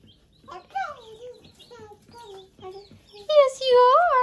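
Backyard chickens cluck and chatter in short, rising and falling calls near a homemade coop, growing louder toward the end, with a voice faintly mixed in.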